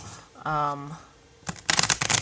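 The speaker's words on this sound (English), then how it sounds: "even I learned this is called a ripple shuffle" A deck of playing cards is ripple shuffled up close. A buzzing riffle of cards comes first, then a quiet pause, then a crisp burst of flicking cards. A voice can be heard around the shuffle.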